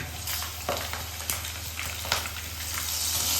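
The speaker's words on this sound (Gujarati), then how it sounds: "એટલે જ આ રીતે જરામાં જ તળી લેવાના." Methi gota, fenugreek fritters, frying in hot oil, giving a steady close broadband sizzle with a few brief crackling bursts and a low hum underneath.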